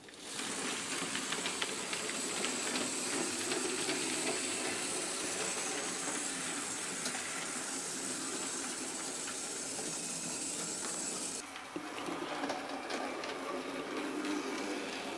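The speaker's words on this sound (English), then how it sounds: "A Cwm Iswyth to Aberystwyth auto train." A steady rushing hiss of a model railway train running continuously, with faint ticking and rattling throughout and a slight change in tone near the end.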